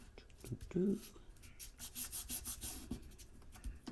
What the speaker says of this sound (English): I'm rubbing the back to make sure that it's all adhered.